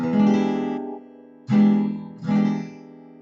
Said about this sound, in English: then we're going to strum all 6 strings and it'll sound like this